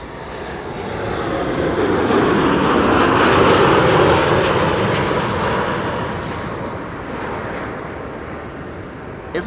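An 18-year-old Boeing 737-800 arriving at Amsterdam Schiphol on a sunny day swells into a loud, broad jet roar as it passes close overhead, then slowly fades away.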